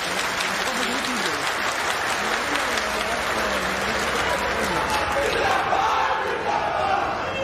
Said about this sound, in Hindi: हम चाहेंगे कि तालियों की गड़गड़ाहट से आप लोग एक बार स्वागत करें।